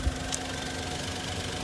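A petrol Maruti WagonR VXI idles with a steady, even mechanical hum and light vibration, heard close and continuous with no talking.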